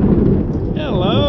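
Thunder from a lightning storm over a bay rolls as a loud, deep, continuous rumble. A voice rises over it near the end.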